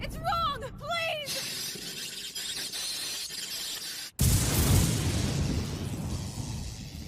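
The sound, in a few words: explosion in dubbed animated series Code Breaker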